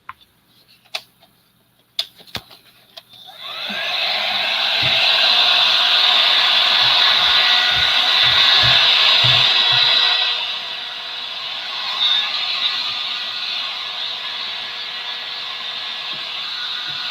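Hair dryer drying a craft project, a few sharp taps and then a steady loud blowing whoosh that runs for several seconds, eases down, and leaves quieter airflow with light knocking underneath.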